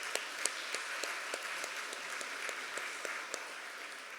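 A steady round of audience applause from a crowd at a Weslaco economic development keynote event, dense and even, with sharper individual claps popping out at a regular pace.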